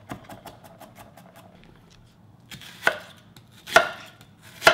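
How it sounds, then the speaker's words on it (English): Four garlic cloves chopped with a knife on a cutting board, a quick run of light rapid taps, a pause, then a few louder, heavier chops spaced apart. "I use 4 garlic cloves. Let's chop it up."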